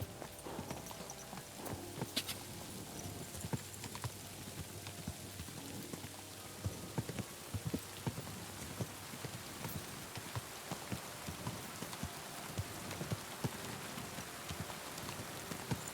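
A horse gallops through steady rain in the game Kingdom Come: Deliverance 2, with quick hoof clops under a constant hiss of rainfall and pattering drops, moderately loud and continuous for the whole stretch.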